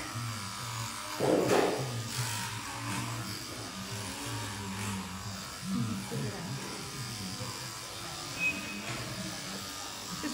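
Electric clippers buzz steadily while shearing around the head of a young alpaca cria, a close continuous motor drone with brief rises in pitch as the blades cut, while a person talks over it.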